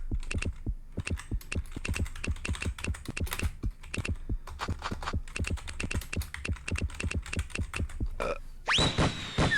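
Rapid keystrokes clatter on a computer keyboard in quick uneven bursts with short pauses, close and crisp, ending with a brief rising electronic whoosh.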